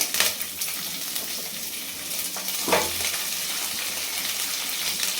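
Chopped vegetables stir-fried in a pan with mustard seeds, an even, close sizzling hiss with a couple of brief stirring scrapes and clinks, steady throughout.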